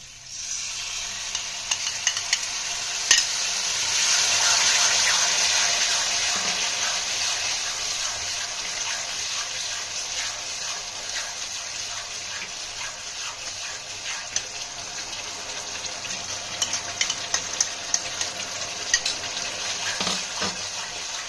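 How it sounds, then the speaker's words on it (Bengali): Whisked yogurt poured into a frying spice masala in oil for doi katla fish curry, giving a steady close sizzle with soft stirring scrapes that swells early and then settles into continuous frying. "দইটা এর মধ্যে দিয়ে দেবো মা দইটা ফেটিয়ে নিয়েছে"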